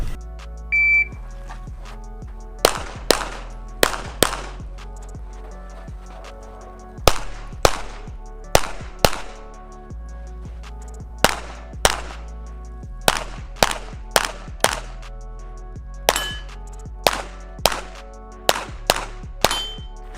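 A Smith & Wesson M&P 2.0 5-inch pistol fires a USPSA stage: sharp, close gunshots in quick strings of two to five, with short pauses between strings over about twenty seconds and no talking.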